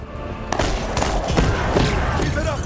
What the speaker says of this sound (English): let's grenade launch them